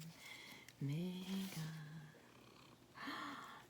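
A house cat purrs softly and close, with low drawn-out tones and a brief vocal sound, heard under faint background noise.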